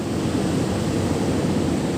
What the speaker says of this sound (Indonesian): pagi ini Masya Allah ombak sangat luar biasa